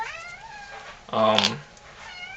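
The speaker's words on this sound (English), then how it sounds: "We have cats here, so that's what you hear in the background." A cat lets out a loud, drawn-out meow in the middle, with fainter cat cries before and after, close by and fairly clear.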